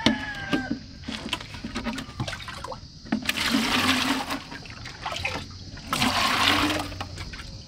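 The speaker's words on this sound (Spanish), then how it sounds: "le voy a ir a echar agua" Water is poured out outdoors onto planted stalks in a field. It sounds like a steady, fairly loud splashing rush that swells in two longer bursts over continuous background noise.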